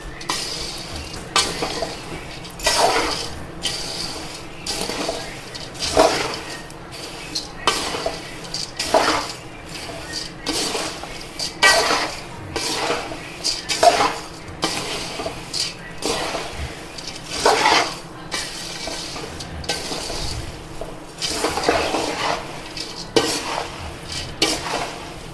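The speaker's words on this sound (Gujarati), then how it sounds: "મમરાને આ રીતે જ્યારે આપણે મિક્સ કરતા હોઈએ" Puffed rice (murmure) is tossed with turmeric in a pan over a low flame: a long run of rhythmic scraping and rustling strokes about once a second, close and fairly loud, over a faint background sizzle.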